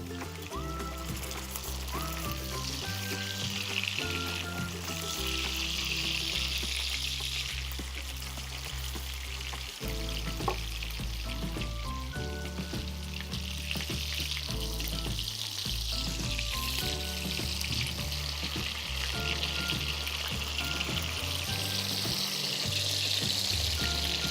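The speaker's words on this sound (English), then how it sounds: "that should give it the good pan sear that you need on the top and on the bottom" Tuna steak sears in a hot pan with a continuous bright sizzle and crackle, steady and fairly close throughout, while music plays underneath.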